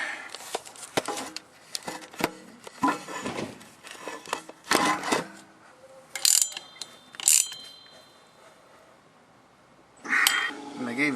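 Ratcheting and wrenching on the front shock nut of a 1996 Toyota Tacoma: a run of quick metallic clicks and clatters in uneven bursts, close up, with a short burst near the end.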